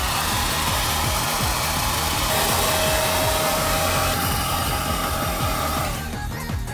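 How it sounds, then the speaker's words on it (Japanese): A hair dryer blows loudly and steadily at close range while drying a spot on a bus, its whirring motor tone holding even before shifting slightly near the end. "ドライヤーでね、 乾かします。"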